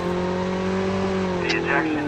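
Motorbike engine revving in the Call of Duty video game, a steady droning hum running throughout at moderate level, with a brief higher burst near the end and background game noise.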